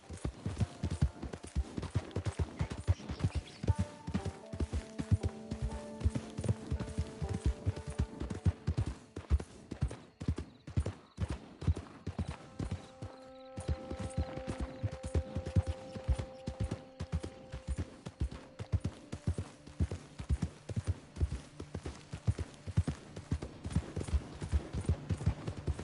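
Horse hooves clip-clop in a steady, rapid gallop rhythm throughout Red Dead Redemption 2, close and continuous with faint creaks of tack, pausing briefly midway before the pace resumes.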